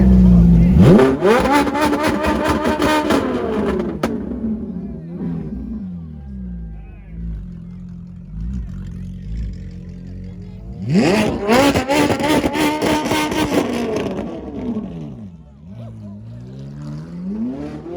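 A Ferrari 458 engine revs hard twice, each blip climbing to a loud, sharp wail and falling back to a burbling idle, close by at an outdoor car meet with people talking around it.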